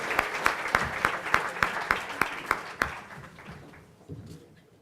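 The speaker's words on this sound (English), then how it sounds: "So much clapping. It's exciting." Audience applause for the Ridge Rams at the Cardinal Challenge, a series of sharp, evenly spaced claps ringing out in a hall that slow and fade away.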